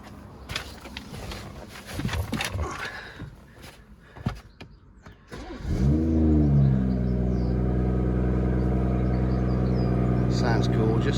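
A BMW M140i with a 3.0 petrol engine and automatic gearbox starts and settles into a steady, deep idle drone, loud and close, after some earlier handling noises.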